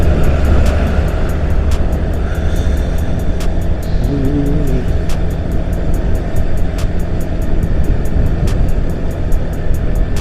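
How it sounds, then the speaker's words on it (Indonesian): Heavy traffic with large trucks on a road under repair on the Pantura route, a loud steady engine rumble and tyre roar throughout, with a brief tonal horn-like sound midway and faint regular clicks. "Ini banyak truk-truk besar ya,"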